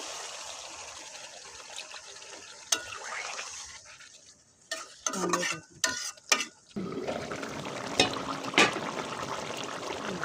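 Water is poured into a frying rohu fish curry, and the steady sizzle gives way to splashing and bubbling. Stirring scrapes and clinks follow as the frying noise returns, with no voices heard.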